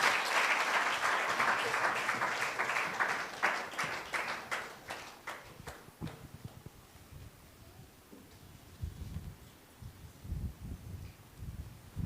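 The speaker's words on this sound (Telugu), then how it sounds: "మరి చప్పట్లు కొడుతూ ఆయన ఆహ్వానిద్దాం" A church congregation applauds in a sustained burst of clapping that fades away after about six seconds, leaving a quieter room with faint rustling.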